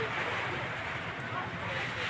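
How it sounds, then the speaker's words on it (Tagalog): Strong wind blows through rain outside a house yard, a steady broadband rush with no breaks, loud and close to the microphone. "Tapos sasabayan siya ng malakas na hangin"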